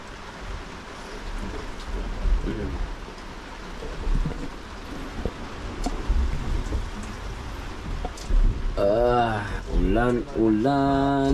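Steady rain patters and hisses throughout, with scattered drips; a voice or high-pitched sound rises near the end.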